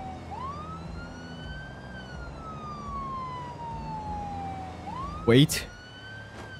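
Police car sirens wail in BeamNG Drive, a long gliding tone sweeping up and slowly down, over engine hum, with a brief sharp crash-like burst near the end and someone speaking.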